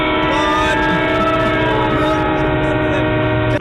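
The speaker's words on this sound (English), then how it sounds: "I'm at the train station." Train station noise with a sustained train horn or whistle, steady and loud throughout, heard with a thin, band-limited quality as if carried over a phone line.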